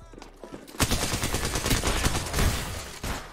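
Rapid automatic gunfire in the video game Apex Legends plays loud and dense, a sustained burst of overlapping shots lasting a few seconds.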